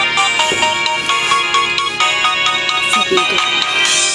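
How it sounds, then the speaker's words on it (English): A phone ringtone plays for an incoming call, a bright, busy electronic melody of repeated tones that rings continuously and fairly loudly with no talking over it. "I got a phone call!"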